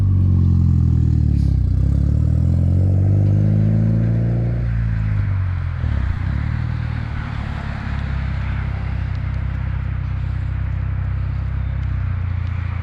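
Mitsubishi Evo X, a 600hp build, revs loudly nearby with strong low engine harmonics, then pulls away and its rumble fades into a steadier, more distant drone, no talking.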